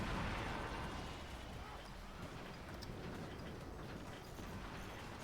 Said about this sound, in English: some of my nukes are landing